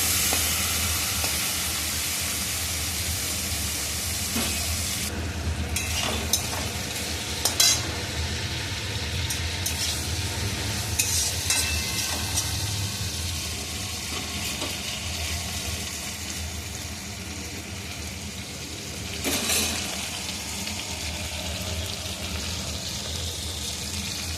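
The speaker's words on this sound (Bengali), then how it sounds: "চিংড়ি মাছটা একটু ভাজা ভাজা করে নিই।" Shrimp coated with salt and turmeric fry in a pan with a steady, close sizzle, punctuated by a few sharp clinks and stirring knocks.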